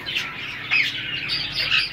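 Green ring-necked parakeet breeding pairs give sharp, high chirps and squawks in quick repeated bursts, close and clear over a quiet background.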